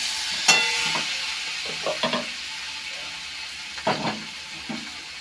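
Spice masala sizzles steadily as it fries in a pan, with a few distinct scraping strokes from stirring, grouped in short bursts over a constant hiss.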